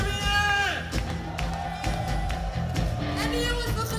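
Audience at a live concert in Britsum, Friesland, cheering and whooping in a steady crowd roar, with music and an amplified voice over it.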